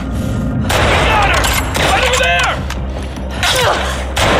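Gunfire in The Last of Us Part 2 video game, loud booming shots and blasts packed densely across the stretch, with a voice talking over the action.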